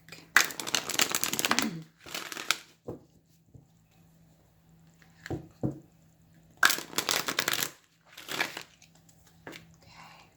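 Tarot cards are shuffled in two bursts of riffling and crinkly card noise, close and fairly loud, with a few soft taps and handling sounds in the quiet between.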